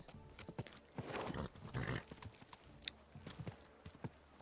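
Horse hooves clip-clop at a walking pace through a town in Kingdom Come: Deliverance 2, a steady run of close, crisp knocks with a brief louder bustle of street noise in the middle.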